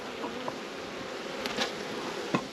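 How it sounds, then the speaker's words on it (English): Soft, steady buzzing of honey bees shaken from a hive onto the floor fills the background, with a few faint taps and bumps along the way; no one speaks. "I'm just going to shake these bees on the floor there now and they'll go back in."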